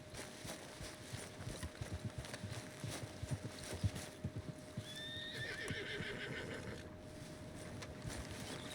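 Horse in the Red Dead Redemption 2 video game clip-clopping with steady hoof steps, then a loud whinny rising near the middle, over a low ambient hum.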